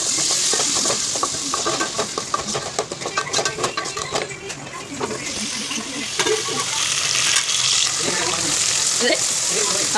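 Onions sautéing for biryani, a steady close sizzle with frequent scraping, stirring clatters and light metallic knocks from a spoon against the pan, continuous throughout.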